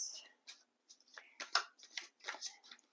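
Tarot and oracle cards are shuffled by hand during a reading, giving soft, quiet riffling and flicking bursts in irregular clusters, close up with no other sound around them.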